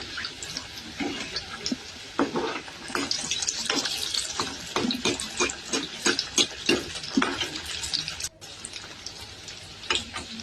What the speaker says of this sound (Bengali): তারপরে আমি একে একে গরম তেলের মধ্যে দিয়ে দেবো।